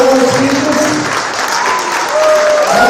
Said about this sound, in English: Let's have applause for all our speakers.